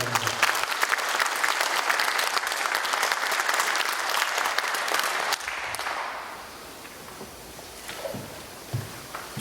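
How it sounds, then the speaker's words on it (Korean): Sustained audience applause welcoming a professor to the lectern at a centenary memorial lecture, loud and dense at first, then thinning out and fading to scattered claps and hall noise. "힘찬 박수로 환영해 주시기 바랍니다."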